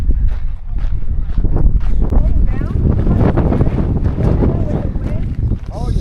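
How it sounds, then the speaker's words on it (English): Strong wind on the Tama Lakes Track in Tongariro National Park buffets the microphone in constant heavy gusts, close and loud throughout. "So windy."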